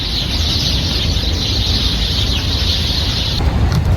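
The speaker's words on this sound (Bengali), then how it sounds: "এখন পাখি কেমন সিউ সিউ করে, আওয়াজ শুনেন।" Birds in a pair of trees outdoors in Saudi Arabia give a continuous, high chirping with a shrill, steady quality over wind and background noise. The chirping cuts off abruptly near the end.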